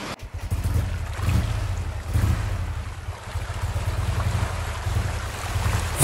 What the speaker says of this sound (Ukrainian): лодки курсують по колу у невеличкому